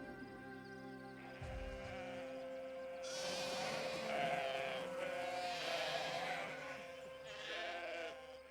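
Sheep bleat repeatedly over a steady background drone, the calls rising and falling in loudness across the clip.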